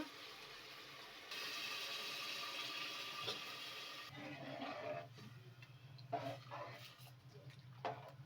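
Water pours steadily into a metal pressure cooker holding lentils for dal khichdi for a few seconds, then trickles off, followed by faint clinks and handling noises.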